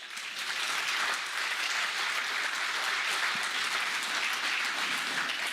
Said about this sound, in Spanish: Dele palmas a Cristo